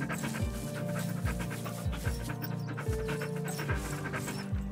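A sled dog from The Red Lantern pants in quick, rhythmic bursts while being petted, with a low huffing pulse repeating about once a second behind soft game music.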